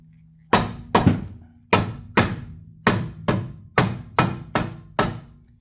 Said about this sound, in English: Pound on it a little bit.